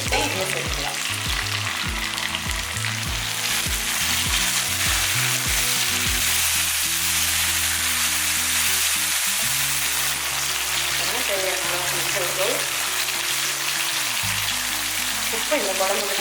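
Small onions and chopped tomatoes sauté in a pan for a chicken kola urundai kuzhambu, a loud continuous sizzle and crackle throughout, with occasional stirring and a voice talking over it.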